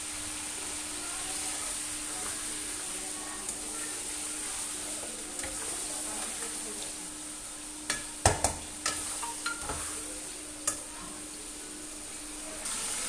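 Chicken sizzles in a karahi with ginger and garlic added, a soft steady frying hiss with occasional sharp clinks and stirring scrapes of the utensil in the pan, fairly quiet and close.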